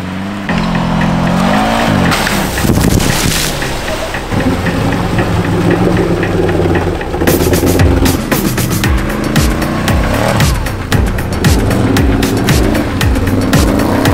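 Off-road race car engine labouring through a deep swamp during a Raketnye Tropy 2023 VEKA race, loud and continuous, with revving pitch sweeps, splashing bursts and strained acceleration throughout.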